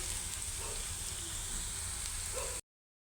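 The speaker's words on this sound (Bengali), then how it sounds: "মশলাটা কষাই নিচ্ছি আমি, পেঁয়াজ একটুখানি আদা রসুন বাটা, হলুদ মরিচের গুঁড়া দিচ্ছি" Onion with ginger-garlic paste, turmeric and chili powder frying in a pan, giving a steady, close, continuous sizzle with faint crackles and no voices.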